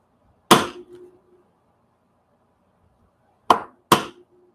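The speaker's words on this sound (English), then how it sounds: "smack it with a hammer." A small hammer smacks a metal hole punch through a paper journal on a mat: one sharp, ringing strike, then after a pause two more quick strikes close together, near and loud in an otherwise quiet room.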